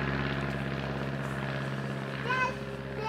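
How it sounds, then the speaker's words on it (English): A propeller aircraft passes overhead with a steady, fairly loud droning hum, and a voice is heard faintly beneath it. "Dad, I see a plane."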